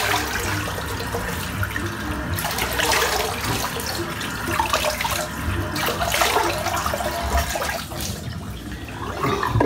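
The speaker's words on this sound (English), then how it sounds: "Right, just empty this water out." Water emptied from a shaving bowl into a bathroom sink, with gurgling, splashing pours in uneven bursts, close by and fairly loud, draining away with occasional clinks.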